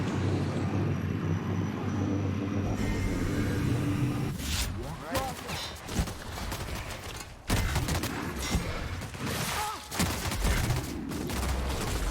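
Shotgun fire in The Outer Worlds, a first-person sci-fi shooter, rings out as repeated loud blasts amid a dense battle mix of continuous rumble and game effects, with a sharp break partway through.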